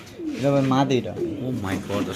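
Pigeon cooing in a bird seller's pen, a few rolling coos repeated close by, mixed with people talking.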